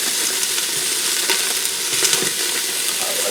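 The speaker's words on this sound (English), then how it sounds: "So I'm going to go ahead and saute this for a few minutes" Pork and onions sautéing in a pressure cooker, a loud, dense, continuous sizzle close by, broken by occasional stirring scrapes, with no talking.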